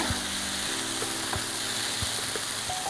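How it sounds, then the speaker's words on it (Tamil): Chettinad chicken pieces frying in plenty of hot oil, a steady, close sizzle running throughout with a few faint clicks of stirring and no talking. "எண்ணெயிலேயே வந்து பாதி சிக்கனை நல்லா வதக்க விடுறாங்க"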